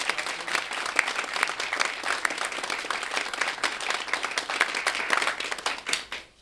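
An audience at a community access television annual meeting breaks into sustained applause, many hands clapping in a dense, steady patter for several seconds before fading out at the end.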